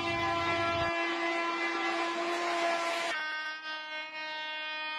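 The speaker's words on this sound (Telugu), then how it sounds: "గంటకి 1000 కిలోమీటర్ల స్పీడ్తో ప్రయాణించే బుల్లెట్ ట్రైన్లు" A futuristic bullet train sound effect: a low rumbling roar gives way to a long, loud, steady horn-like tone that rings on alone and shifts pitch slightly near the end.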